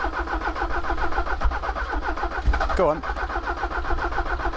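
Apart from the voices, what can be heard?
Porsche 944 engine starting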